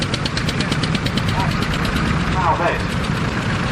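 A fully restored single-cylinder vintage tractor engine runs steadily at a steam and vintage rally, a loud, even chugging thud close by, with crowd chatter and outdoor noise around it.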